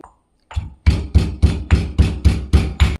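Large chunks of chopped ginger being pounded and crushed for a homemade dandruff shampoo: a short scrape, then about eight heavy, evenly spaced thuds, close and loud, with no talking.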